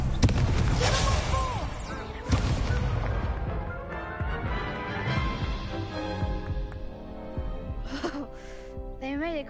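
A Confringo blasting spell fired in Hogwarts Legacy: loud bursts with crackling blasts, mixed in with game music and a voice in the foreground.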